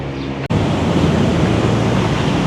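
Beach waves wash steadily onto a shore in Thailand, a continuous close rushing surf with a brief dropout near the start and no talking.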